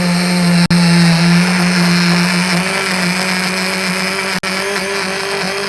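Mixer grinder blending gravy ingredients for kaju paneer, a loud steady high-speed motor whine with two brief cutoffs as it pauses and restarts, close and alone.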